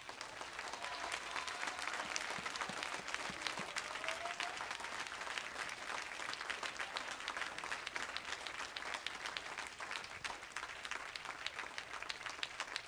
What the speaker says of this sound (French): On bat l'Éternel, on applaudit.